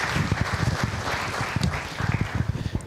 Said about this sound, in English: A round of applause for Peter.